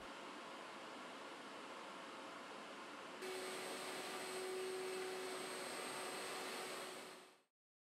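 A shop vacuum runs in a woodworking workshop while dust is collected, a steady loud whooshing roar that rises in pitch and strength partway through. It then winds down and cuts off at the end.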